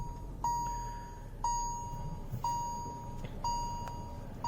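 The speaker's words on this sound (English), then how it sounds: "let me just turn on the ignition" Dashboard chime in a Hyundai Verna as the ignition is switched on: a soft, clean electronic tone repeating once a second, four or five times, over a quiet cabin.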